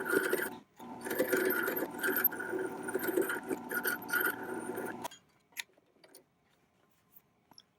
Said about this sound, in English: I'm going to turn it on, and here I have the flat file and the triangle file